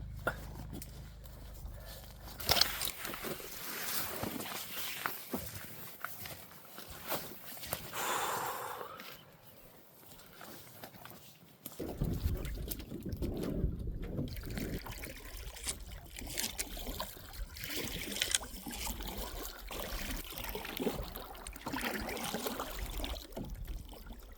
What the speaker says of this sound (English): Going back to my kayak now.